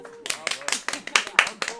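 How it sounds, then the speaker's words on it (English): A few people clap in a room, about ten quick uneven hand claps at close range with voices under them. "We clapping anyway."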